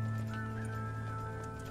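Horse in the Red Dead Redemption 2 video game, a steady game-world hoof and horse ambience running throughout over a constant low engine-like hum, with no distinct neigh standing out.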